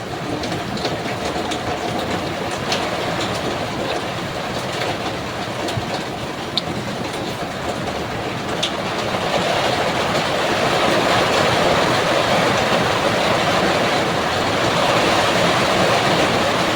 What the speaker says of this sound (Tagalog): naririnig nyo mga idol. Napakalakas ng ulan na yan.